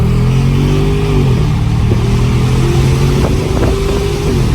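A Mercedes S500 accelerates hard, its engine note a loud, steady drone heard from inside the car that dips briefly at a gear change and then climbs again.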